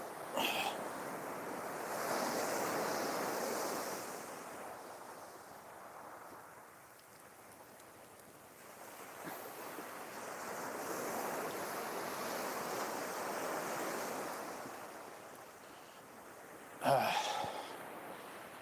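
Sea waves break and wash on a stormy UK beach at Southbourne, surging in slow swells with wind buffeting the microphone and a sharp gust near the end.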